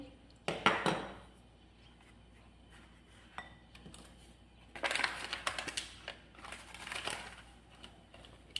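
Utensil stirring sugar into dough ingredients in a bowl, heard as scraping, clinking strokes that come in two clear bouts separated by quieter moments.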